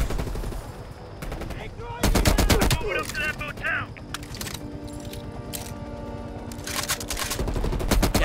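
Hip-fired automatic gunfire in Call of Duty Black Ops Cold War, several loud rattling bursts separated by gaps, mixed with mechanical game sounds and a voice talking in between.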